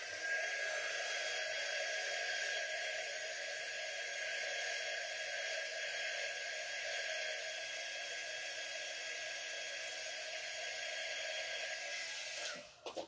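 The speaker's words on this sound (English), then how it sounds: "Let me hit this with the dryer." A hair dryer blows on a freshly painted surface, a steady loud whooshing roar that holds for about twelve seconds before cutting off with a few clunks.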